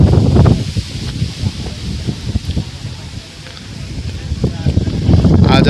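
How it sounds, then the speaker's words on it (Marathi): Gusty wind sweeping across a hilltop campsite on the Prabalgad and Kalavantin fort trek, buffeting close to the microphone in uneven bursts that ease midway and then swell again. "वारा पण मस्त सुटला आहे"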